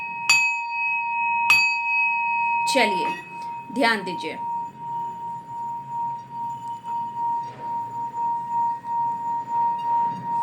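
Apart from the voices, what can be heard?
bell and singing bowl struck for sound healing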